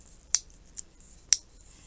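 Scissors snip tatting thread in three quick, crisp cuts close by, the middle one softer, in a quiet room with no talking.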